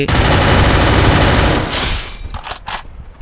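MP5 submachine gun fire in the Free Fire battle royale game: a loud sustained automatic burst for about two seconds, then a few scattered trailing shots and clatter.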